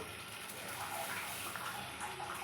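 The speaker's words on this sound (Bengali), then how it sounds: "এবার একটু জল দিয়ে দেবো" Water is poured into a pan of tamarind water, turmeric and salt while a fish curry cooks. The steady, soft gushing is faint and has no talking over it.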